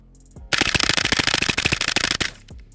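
A Stenzel SAK-21 AK rifle fires a long, rapid burst of shots in a dense, loud rhythm for nearly two seconds, then stops abruptly, leaving a brief quiet tail.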